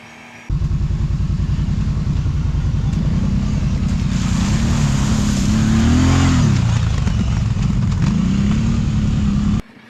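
A Kawasaki Brute Force 750 ATV engine drones loud and close along a trail, a steady rumbling note that rises and dips as the throttle changes, running continuously before cutting off near the end.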